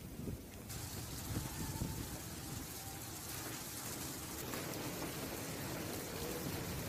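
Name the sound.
heavy rain with hail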